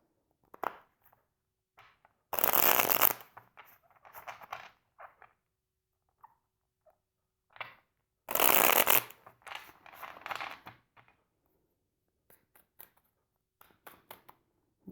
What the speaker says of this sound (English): Okay, so here we go. Cut these.